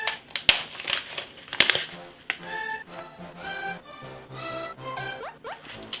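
Tea packaging torn open by its small rip tab, a few sharp crinkling and tearing bursts in the first two seconds, then quieter rustling under a steady tonal background.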